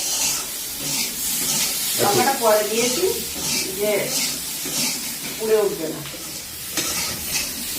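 Ginger garlic paste stirred and frying in a hot pan, a steady sizzle with scraping stir strokes, heard near with people talking over it.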